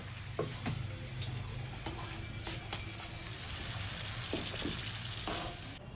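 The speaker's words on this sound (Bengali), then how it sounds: "আর একইভাবে দেখো বেগুন আর কুমড়োটাও ভেজে নেব" Steady sizzling of eggplant and pumpkin frying in hot oil, with occasional clinks and scrapes of a utensil against the pan.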